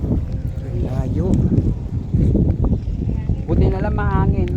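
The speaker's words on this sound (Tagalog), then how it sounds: "Buti na lang mahangin no." Strong wind buffets the microphone at a beach in Mariveles, Bataan, a loud, gusty low rumble running throughout while people talk over it.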